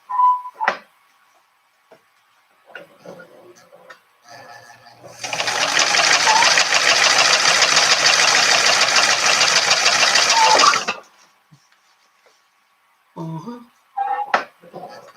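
Sewing machine stitching a fabric makeup pouch for a bridesmaid gift, a steady close whirring run of about six seconds, bracketed by a person speaking briefly and quiet handling noises.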